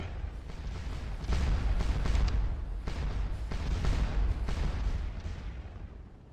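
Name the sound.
artillery fire in video game Scourge of War Waterloo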